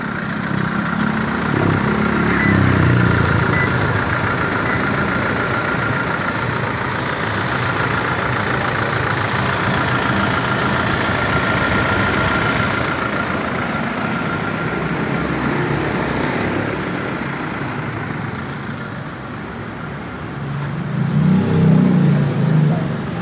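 A 2019 Toyota Fortuner 2.4D diesel engine, fitted with an HHO fuel saver, idles steadily and loudly up close, with a couple of brief revs rising near the start and the end.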